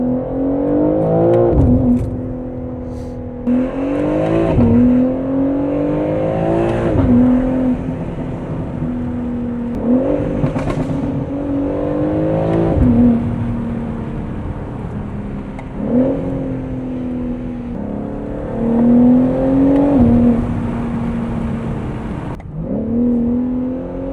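BMW G8X M3 with S58 engine, Valvetronic midpipe exhaust, revved repeatedly: a series of sharp rising blips and falling pops, roughly eight cycles over twenty-odd seconds, loud and close, with crackling burbles on the overrun and no voices.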